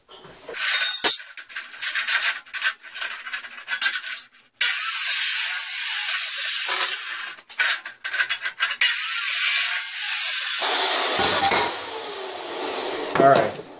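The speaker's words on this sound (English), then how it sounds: "I'll take it over here to the chop saw" A chop saw cuts through metal in a loud, harsh, hissing grind that starts in short bursts, then settles into a long steady run before tapering off near the end.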